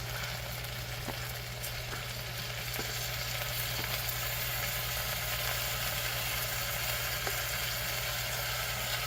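Washed rice hits hot spiced oil in a pot while cooking bagara rice, giving a steady, close, even frying sizzle with faint clicks and a low constant hum underneath; no one talks.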